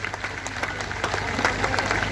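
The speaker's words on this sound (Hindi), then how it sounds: "10 सेकंड तक लगातार जोरदार तालियां बजाई जाए" A crowd at a farmers' gathering at the Khuian Malkana toll plaza in Haryana applauds the Haryana Kisan Ekta Dabwali team with dense, sustained clapping that holds steady and swells slightly toward the end.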